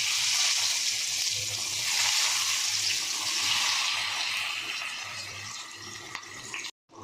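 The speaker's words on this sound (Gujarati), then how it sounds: "ત્યારબાદ આપણે તેમાં ભીંડો ભર્યો હતો તે ઉમેરી દઈશું।" Stuffed okra sizzling as it goes into hot oil seasoned with mustard seeds and asafoetida in a kadai, a loud steady hiss that fades slightly before cutting off abruptly near the end.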